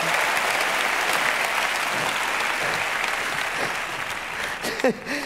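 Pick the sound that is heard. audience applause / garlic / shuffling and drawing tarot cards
audience applause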